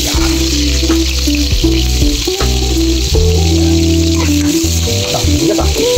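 Onions fry in olive oil in a pan, giving a loud, continuous close sizzle with crackling bursts and occasional stirring scrapes, with no voices.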